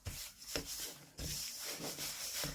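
Soft, gritty rubbing and squishing of a thick toothpaste and baking soda paste being kneaded by hand, repeated in short bursts, close up and without any talking.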